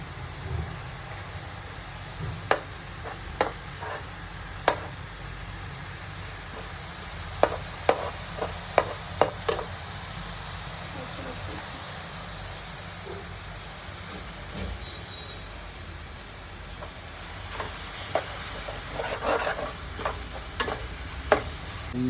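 Egg fried rice is stir-fried in a pan, a low steady sizzle under repeated sharp taps and scrapes of a spatula against the pan, close and clear.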